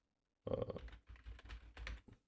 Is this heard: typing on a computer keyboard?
yes